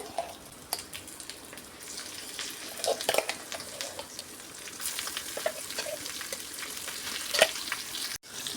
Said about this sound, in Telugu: ఇప్పుడు ఇందులో మనం గ్రైండ్ చేసి పెట్టుకున్నాం కదా క్యాబేజీ అది వేసేసుకోవాలి